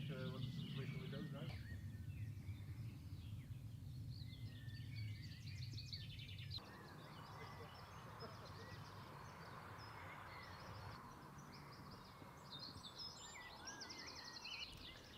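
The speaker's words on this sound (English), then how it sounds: "you can hear the birds chirping" Birds chirp and trill in the quiet air of a First World War cemetery near Ypres on a sunny day. The calls are faint and scattered above steady outdoor background noise.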